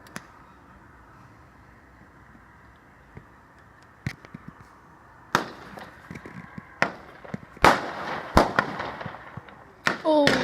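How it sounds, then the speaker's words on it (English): Fireworks set off on bonfire night across a wasteland crack and pop in sharp, irregular bursts, sparse at first then more frequent and louder, over a faint background hum. "They're backfiring. Shoot. They're just firing on the ground now."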